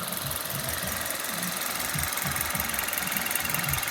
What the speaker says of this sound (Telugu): ఆల్రెడీ ఇంజిన్ స్టార్టింగ్లోనే ఉంది.